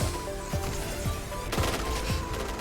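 Gunshots ring out in a PB shooter video game: several sharp shots spaced roughly half a second apart over a steady electronic game backdrop, with a louder burst near the middle.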